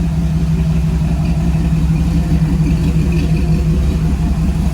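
A 1941 Chevrolet rat rod with a tune port 350 V8 and 700R4 transmission runs steadily, giving a loud, close, even low rumble with no revving and no talking.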